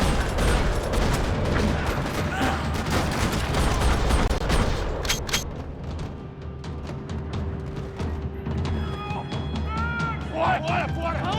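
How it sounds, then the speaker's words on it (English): Dense gunfire rattles through a parking lot in Max Payne 3 on Xbox 360, rapid bursts and overlapping shots up close, then sparser shots and mechanical noises as voices shout over the fight. "Another parking lot rattling with gunfire."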